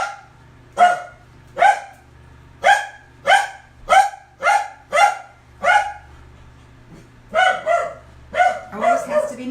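A dog barks indoors close by in a long run of repeated sharp barks, about a dozen evenly spaced, then quicker clustered barks near the end, over a steady low hum.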